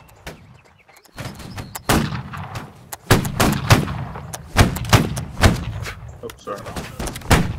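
Musket volleys crack out in the Holdfast line-battle game, a series of sharp, loud shots arriving in ragged clusters and single reports a second or so apart, with brief voices from players between them.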